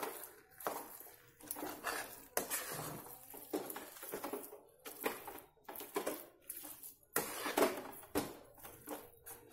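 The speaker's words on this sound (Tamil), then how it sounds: "இந்த நம்ம இதில் போட்டிருக்கிற பருப்பு வந்து கொஞ்சம் சாஃப்ட் ஆகிற வரைக்கும் நம்ம கிண்டணும்" A ladle scrapes and knocks around a pot of softening lentils for a sweet palm-sugar dish, in irregular clinks and scrapes, fairly close and quiet, with no talk.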